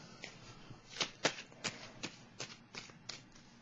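Tarot cards riffled and shuffled close up by hand: a quiet series of about eight crisp papery flicks at an uneven, roughly half-second rhythm, soft and alone without talk.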